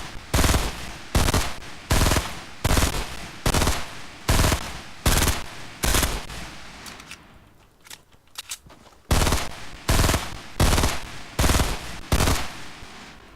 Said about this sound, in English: I will shoot them down and tell you basically how long it takes to shoot down each one